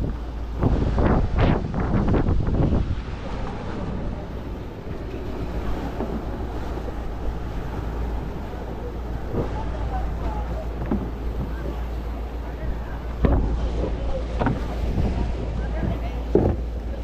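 A service boat's engine drones low and steady on open water, mixed with wind buffeting the microphone and splashing waves, while people talk intermittently nearby.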